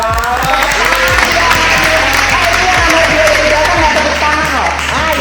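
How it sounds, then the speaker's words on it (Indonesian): Sustained applause, loud and continuous for several seconds, with voices talking over the clapping. "Ah iya, ada tepuk tangan."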